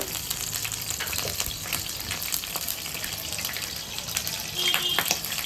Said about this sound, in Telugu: కొంచెం పప్పు అందులో వాటర్ ఉన్నట్టుంది కొట్టుకుంటుంది